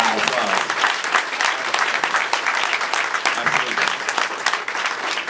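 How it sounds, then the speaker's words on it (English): An audience at a community event in Atlanta breaks into sustained applause, dense hand-clapping from a large crowd with scattered cheers and voices mixed in, loud and continuous throughout. "That deserves a round of applause."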